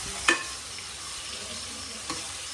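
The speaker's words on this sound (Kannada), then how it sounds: "ಈಗಾಗಲೇ ತೊಗೊಂಡಿರೋ ಜಿಂಜರ್ ಗಾರ್ಲಿಕ್ ಪೇಸ್ಟ್ನ ಇದ್ರೊಳಗೆ ಹಾಕೋಬೇಕು. ಮತ್ತು ಚೆನ್ನಾಗಿ ತಾಳಿಸ್ಬೇಕು." Ginger garlic paste fries in oil and ghee with a steady, quiet sizzle, broken by two brief scraping stirs of a spoon in the pan.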